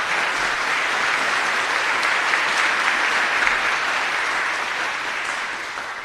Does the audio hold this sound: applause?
yes